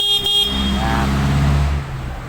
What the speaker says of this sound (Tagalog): Pag busina.